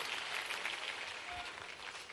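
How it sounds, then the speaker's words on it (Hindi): An audience applauds for a farmer's daughter at an agricultural innovation dialogue event in Rabindra Bhavan, Bhopal, with sustained dense clapping that stays moderately faint and steady throughout. "किसान बेटी के लिए जोरदार ताली बजा"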